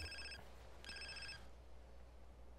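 In GTA San Andreas, a phone rings with two short electronic trills, each a fast repeating warble, separated by a brief pause and playing fairly quietly over a low background hum.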